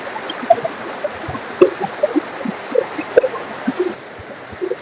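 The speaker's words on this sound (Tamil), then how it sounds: "அப்படியே பாறைங்களுக்கு நடுவுல தண்ணி பாருது" Water flows and gurgles steadily over rocks, with small splashy bubbling bursts scattered throughout and no voices.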